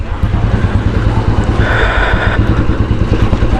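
A motorcycle with large wheels rides on a wet road after rain, its engine a steady low drone buried under heavy, rushing wind noise.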